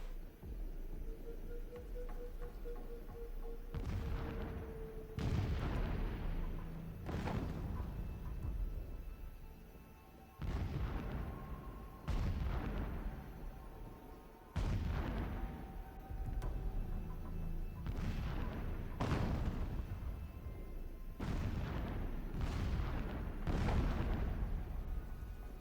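Sydney New Year's Eve fireworks boom repeatedly from a distance, a dense irregular barrage of deep muffled blasts and crackling rumbles with short gaps, under a steady indoor hum.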